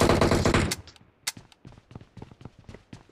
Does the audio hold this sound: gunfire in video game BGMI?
yes